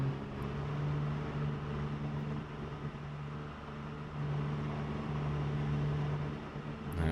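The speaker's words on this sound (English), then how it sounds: "the car does sound like he's screaming to be shifted into the next gear" A truck engine in a 90s-set video game hums steadily and continuously up close, with a strained, high-revving drone that barely varies over several seconds.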